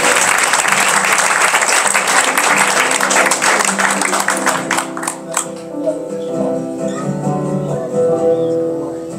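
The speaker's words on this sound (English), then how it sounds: "give them a round of applause" A church congregation at a Sunday service applauds loudly, dense clapping that swells and then thins out into scattered claps and cheers as it fades.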